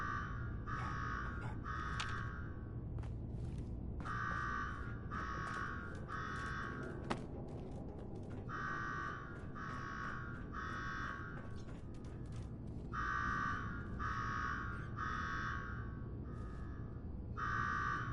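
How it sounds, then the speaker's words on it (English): A repeating electronic alarm in the Fallout 4 video game, rhythmic bursts of a bright buzzing tone sounding in groups with short gaps, over a low mechanical rumble and no talk. "Now go shut off that damn alarm."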